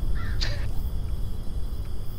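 Crows caw in the horror video game Sign of Silence, one sharp nearby caw followed by fainter calls, set over a low rumbling ambient drone.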